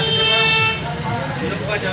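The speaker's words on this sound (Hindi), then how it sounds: "यहाँ पर बस आपको गाड़ियों की आवाज़ सुनाई दे रही होगी" Busy market street traffic noise with a sustained, droning vehicle horn blaring under a speaking voice for a couple of seconds.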